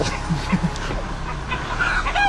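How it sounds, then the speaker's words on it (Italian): Several chickens cluck in short bursts from up in a tree amid busy outdoor ambience in rural Sicily, with faint bird calls nearby. "in questo albero ci sono delle galline"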